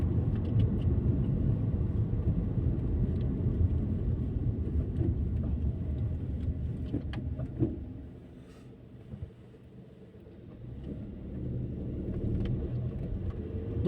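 The small three-cylinder engine of a 2019 VW T-Cross drones steadily while driving, a low continuous rumble that dips briefly before building again.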